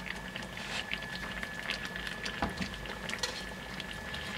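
Fish in tomato sauce simmers in a pan with a soft, continuous bubbling and faint popping, quiet and close, with no voices.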